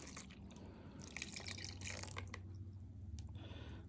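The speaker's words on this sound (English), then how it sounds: "We're going to pour in our first 2 cups of milk." Two cups of milk pour into a pumpkin butter mochi batter in a mixing bowl, giving a steady liquid splash and trickle that runs unbroken for several seconds with no talking over it.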